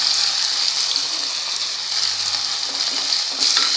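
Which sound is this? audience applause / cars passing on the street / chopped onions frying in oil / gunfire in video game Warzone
chopped onions frying in oil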